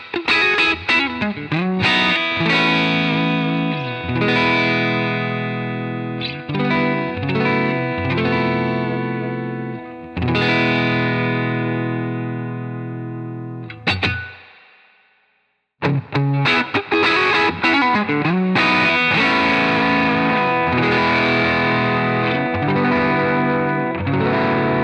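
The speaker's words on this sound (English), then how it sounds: "The Dude cleans up beautifully with your guitar's volume knob and responds to your pick attack the same way those amps do" An electric guitar played through a J. Rockett The Dude Dumble-style overdrive pedal, loud crunchy chords and single-note lines with bright sustain, a brief fade to silence midway, then more driven riffing, no talking.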